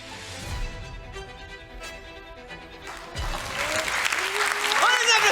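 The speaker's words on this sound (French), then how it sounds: "On les applaudit bien fort!" A theatre audience at an Avignon Off festival show bursts into sustained clapping that swells and grows louder and denser toward the end, with some voices mixed in.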